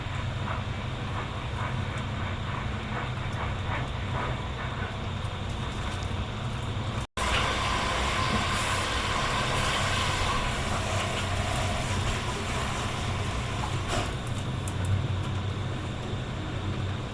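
A steady, rumbling rattle of a moving train passing vineyards near Mainz fills the clip, with continuous wheel and carriage noise and a brief cut partway through.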